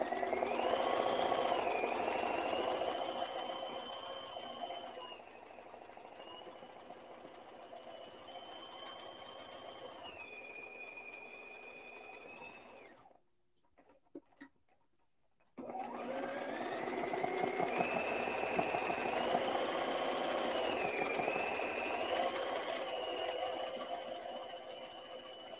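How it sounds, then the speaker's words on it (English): A sewing machine doing free-motion embroidery on a shirt collar whirs steadily and loudly up close, its motor pitch shifting with speed, stopping briefly for a couple of seconds of near silence before running again. "Sewing backwards, it's fun, it's weird, but it works."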